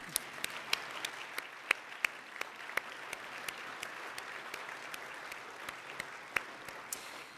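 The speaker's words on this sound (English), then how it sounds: "And it's okay to clap for that" Audience applause at a fundraising dinner honoring service members, a steady patter of many hands with a few sharp nearby claps standing out, fairly faint and without talk.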